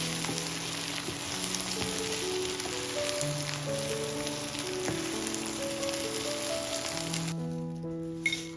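Chopped onion frying in ghee in a pan, a steady close sizzle and crackle running throughout with light stirring, while soft music plays underneath.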